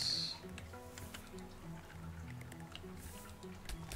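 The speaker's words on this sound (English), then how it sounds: "Let's water our plants." Watering plants in the shop game Winkeltje: The Little Shop: soft drips and trickling liquid, fairly quiet, over a faint background tune.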